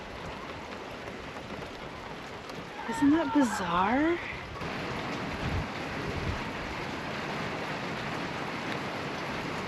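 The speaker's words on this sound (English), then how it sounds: "There's balls of slush falling from the sky." Balls of slush fall from the sky outdoors on a homestead, a steady hissing patter like heavy rain, continuous and moderately loud, with someone speaking briefly partway through.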